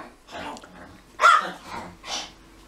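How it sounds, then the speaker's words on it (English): A stray dog barks and growls in the background, giving three short bursts spread across a couple of seconds, moderately close, with no talk over them. "There's a stray dog here. That's why you hear all the noise in the background."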